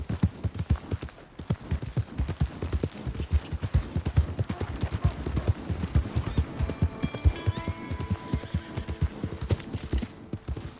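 Rapid, rhythmic hoofbeats of a galloping horse in Red Dead Redemption 2 pound steadily throughout, with a brief whinny and some game music tones emerging toward the end.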